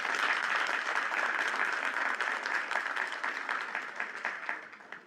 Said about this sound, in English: let's give all of our school level parents and teachers of the year a round of applause